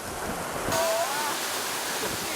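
Water released from above crashing down like a small waterfall in a gorge at Český Krumlov, Czech Republic: a sudden loud rush of splashing, broadband water noise that swells and stays steady.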